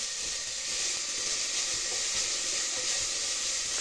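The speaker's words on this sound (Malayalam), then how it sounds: "ചെറുതായിട്ടൊന്ന് ഇളക്കി കൊടുക്കുവാണേ." Garam masala stirred and frying in a pan for a yam and beef curry, giving a steady close sizzle and hiss that holds at an even level without a break.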